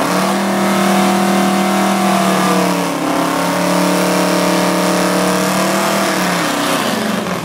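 Drag racing cars, including a Lincoln Town Car and a Dodge, accelerate hard down a drag strip. Loud, steady engine roar with rising and shifting harmonics throughout, and no talk.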